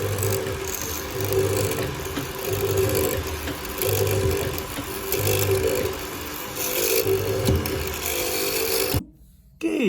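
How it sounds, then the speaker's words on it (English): A mortise machine runs steadily with a rhythmic hum and rasping chisel noise while cutting a mortise in wood, cycling in regular pulses before cutting off abruptly near the end. "Switch on the mortise machine again."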